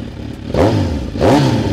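A motorcycle fitted with a Z1000 exhaust revs twice in quick succession, each loud, close blip rising in pitch and then dropping back, over a steady idle.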